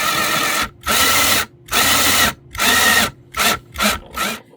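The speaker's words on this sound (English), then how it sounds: "use a step bit to drill this new hole up to the" A power drill with a step bit runs in repeated bursts, enlarging a hole in a guitar headstock, about seven pulses of whirring grind separated by short pauses, loud and close.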